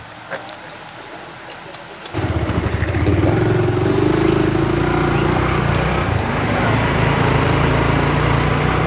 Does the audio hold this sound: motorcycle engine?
yes